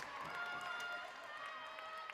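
A distant crowd at a college volleyball match between Truman State and Rockhurst applauds and cheers faintly, a soft wash of clapping and murmur under the arena's ambient hum.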